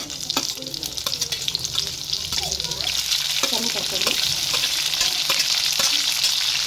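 Sliced onions sizzle loudly in a cup of hot oil in a pan while being stirred for a greens bassaru palya, with steady frying crackle close by and occasional stirring scrapes.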